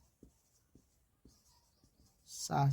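Pen strokes on paper during a math lesson come as faint, evenly spaced scratches, about one every half second, close by, followed by a sudden louder rustle at the end.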